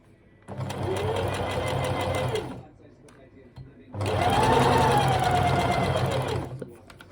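A sewing machine stitches the ear dart seam of a plush toy in two close, steady runs of rapid whirring, each a few seconds long, with a short quiet pause between them.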